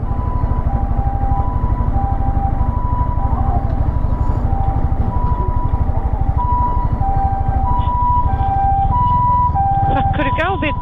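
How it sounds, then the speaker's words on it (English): An ambulance siren wails on a street in Japan along the coast between Toyama and Niigata, its repeating two-tone pattern loud and continuous over heavy motorcycle engine and wind noise, with people talking. "Of course it is. Ambulance."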